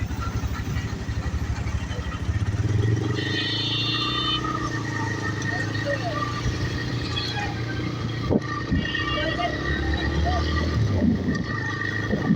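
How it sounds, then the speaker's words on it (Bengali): A motorcycle rides along a city road, its steady engine drone and traffic rumble continuous throughout, with a brief horn-like tone in the middle and no talking. "এখন বাইকে করে একটু ঘুরতে যাচ্ছি"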